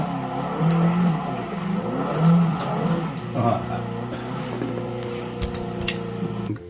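Car engine in a racing video game revving and whining through a drifting lap with tire squeal, steady droning tones shifting in pitch, while a person talks over it.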